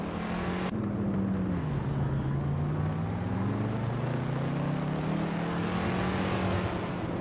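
A 1963 TVR Griffith 200 races in a video game, its engine drone loud and steady throughout, pitch rising and sagging gently as it holds a constant pace.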